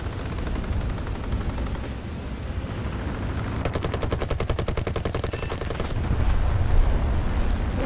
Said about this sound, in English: Getting halfway decent shooting ground targets